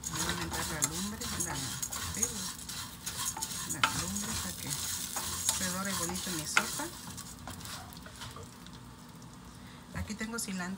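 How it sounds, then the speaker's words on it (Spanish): Fideo noodle pasta frying and browning in a pot for beef noodle soup, a continuous close sizzle with repeated scraping and stirring of a spoon against the pot, with a voice speaking over it at times. "Que se dore mi sopa para agregarle puré de tomate."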